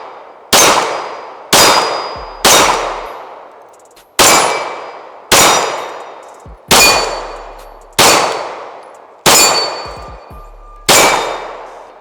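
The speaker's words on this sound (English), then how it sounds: "let's go ahead and send some shots" Pistol shots ring out on a range, nine sharp reports spaced about a second apart, each followed by a metallic ringing decay, close and loud.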